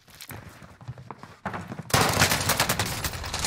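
Call of Duty gunfire on Rebirth Island: faint scattered shots at first, then a sudden loud close burst of rapid firing that continues to the end, with no voices.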